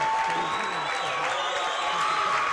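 A high school cheer section celebrating a boys basketball county tournament win in a gym, with dense, loud crowd cheering and applause sustained throughout, a commentator's voice faintly underneath.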